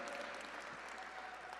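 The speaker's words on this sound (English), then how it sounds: "Let's keep that applause going." Gala audience applause, dense continuous clapping from a large crowd, sustained and even across the whole moment.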